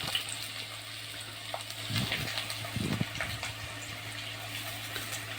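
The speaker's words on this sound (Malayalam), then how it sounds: "ഉലുവ മൂത്ത് വന്നതിലേക്ക് നമുക്ക് ആ ഇഞ്ചിയും വെളുത്തുള്ളിയും ചതച്ച് വെച്ചിട്ട് ചേർത്ത് കൊടുക്കാം" Crushed ginger, garlic and shallots frying with fenugreek in hot oil, a soft steady sizzle and hiss with a couple of brief stirring scrapes, low and close with no talk.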